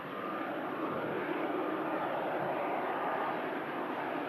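A fixed-wing airliner with its flaps lowered at Manchester Airport makes a steady, broad engine roar that holds at an even loudness throughout and stays fairly distant.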